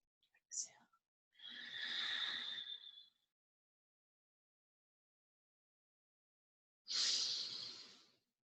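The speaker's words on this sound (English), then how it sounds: "Exhale." Two long, breathy exhales during a Kundalini-style meditation, each lasting a couple of seconds and separated by a long silence, soft and close with a whispery hiss.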